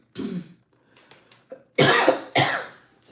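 A woman coughs in several harsh, loud bursts, a few softer clearings first and then two strong, close coughs near the end, with no talking.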